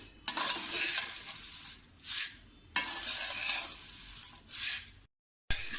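Thin poha chivda is stirred and roasted in a pan over a gas flame, giving a dry rustling scrape in several bursts of stirring with short pauses between them.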